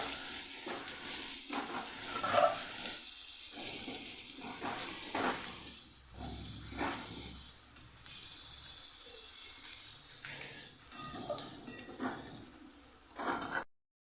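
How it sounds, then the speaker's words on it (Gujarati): Continuous sizzle of onions sautéing in a pan, broken by repeated scraping and stirring sounds, with a louder clatter near the end. "ડુંગળીને આપણે સરસ સાતડી લેવાની છે"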